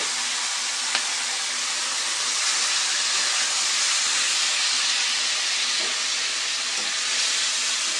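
Steady, loud hiss of ingredients frying in a pan in a village kitchen, a continuous sizzle that holds for several seconds with a few faint clicks and no talking.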